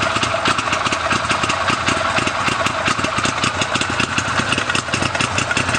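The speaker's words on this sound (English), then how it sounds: "So you can hear that exhaust." A 2014 Arctic Cat Wildcat X Limited side-by-side idling with a hotter cam, a loud, close, lopey exhaust rumble with an uneven pulsing beat that holds steady throughout.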